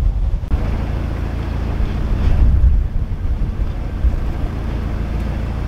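Narrowboat cruising single-handed on the Montgomery Canal, a steady low engine rumble with wind buffeting the microphone, continuous and close with no talk.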